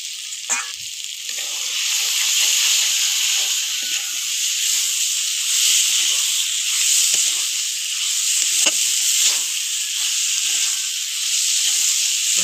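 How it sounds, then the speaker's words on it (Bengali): Potatoes and taro sautéing in a pan give off a constant loud sizzling hiss, broken by occasional scraping stirs. "ভেজে রাখা আলু আর কচুটা দিয়ে দেবো।"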